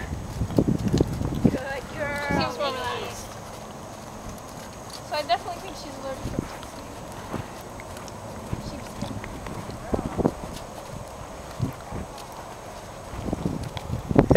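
Hooves of a horse walking while ridden bareback, soft rhythmic clip-clop steps under a rider's and a coach's talking, with wind noise in the background.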